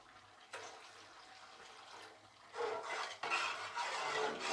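Water is poured into a pot of dal saaru made with cooked lentils, onion and tomato added to a tempering, a close, rushing splash that starts after a short pause and grows louder and fuller toward the end.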